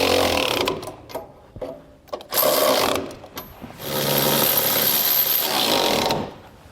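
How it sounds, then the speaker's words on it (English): Socket wrench tightening the bolts and nuts of a Curt trailer hitch receiver on a 2018 Ford Escape, heard as close ratcheting in short bursts and then a longer steady run, with no voices. "We can now go back and tighten down all of our hardware"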